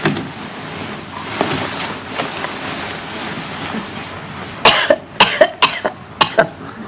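A burst of several sharp, loud coughs near the end, coming in quick succession over a steady background rumble.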